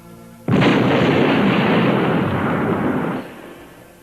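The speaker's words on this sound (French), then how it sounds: "Steve Wok est tué par l'explosion d'une bombe dissimulée dans sa guérite" A bomb blast from an action movie erupts as one loud, dense burst that holds at full roar for nearly three seconds, then cuts off into a low hum.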